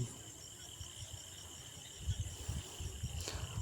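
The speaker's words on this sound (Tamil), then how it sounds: "வெட்டுக்கிளி" A grasshopper chirps continuously in a thin, steady buzzing drone, joined by some low rustling and soft thumps in the second half.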